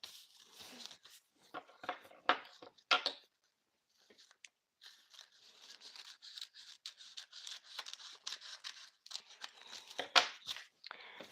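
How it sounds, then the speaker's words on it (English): Scissors cut away crepe paper for a Santa Claus craft, with quiet snips and papery rustling in close, irregular bursts, pausing briefly midway, alone without talk. "So I'm going to just cut this away."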